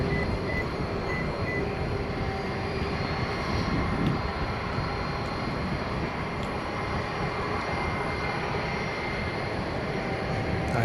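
A jet airliner at DFW Airport at night gives off a steady, broad engine roar that holds at an even level throughout with no voices, heard from a plane-spotting vantage near the runway.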